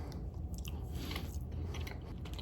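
Close, steady chewing of a moist, chewy gluten-free brownie, soft wet mastication sounds repeating throughout with no talking.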